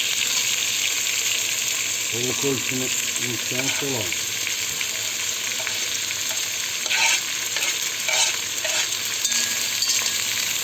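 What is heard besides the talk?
chicken frying in a pan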